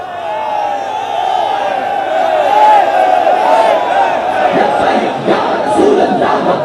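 A large crowd at a Tehreek-e-Labbaik Pakistan rally chants Labbaik slogans in unison, loud and sustained, with voices rising and falling in a continuous rhythmic roar.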